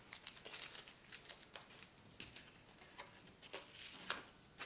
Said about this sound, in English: I can now reveal or take off this masking tape